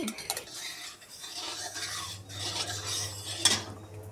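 A spatula scrapes and rubs around a hot kadai, spreading oil, in steady close scraping strokes with a brief sharp clink near the end; no one speaks.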